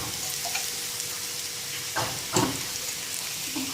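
Elephant foot yam sautés in a little oil in a pan over low heat, with a steady close sizzle broken by a few louder stirring bumps.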